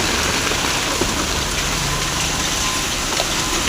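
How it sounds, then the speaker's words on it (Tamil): Hail and icy rain pour down in Bangalore, a steady, dense hiss of falling ice and water with faint scattered impacts, continuous and loud throughout with no voices. "ஐஸ் மழை பெஞ்சிட்டு இருக்கு."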